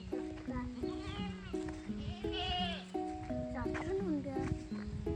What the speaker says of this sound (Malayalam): ഒരു ആടുമുണ്ട്.